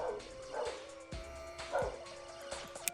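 A dog lets out a few yips and whimpering barks nearby indoors, brief irregular calls heard over a steady background hum.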